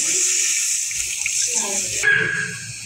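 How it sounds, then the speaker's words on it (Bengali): Water poured into a pan of fried curry spices for a taki fish and potato dish, a steady gushing pour across the whole span with faint kitchen sounds and some speech underneath. "তখন তরকারির পানি দিয়ে দিই"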